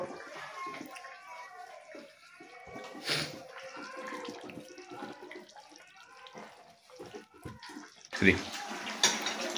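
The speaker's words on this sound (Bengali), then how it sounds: "তো এবার ঝোলটা ঢেলে দিচ্ছি।" Fish curry with potatoes, made from fresh catla, pours from a pot into a serving dish, giving a wet, splashing flow. It rises louder near the end and is heard alongside kitchen sounds.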